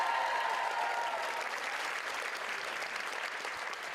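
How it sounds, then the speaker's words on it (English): Audience applause for a dance duo at a local celebrity dance competition, a dense steady wash of many hands clapping that holds loud for about four seconds before easing slightly. "One more round of applause for them."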